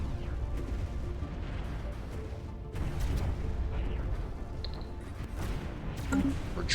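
A charged weapon fires during a Stellaris space battle, a dense rumbling boom that swells over steady, noisy battle ambience without a clear break from it.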